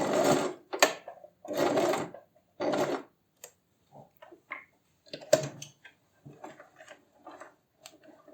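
A sewing machine stitches a backstitch at the end of a tote bag: several short bursts of rapid mechanical clatter, then quieter scattered clicks and taps as the fabric is adjusted.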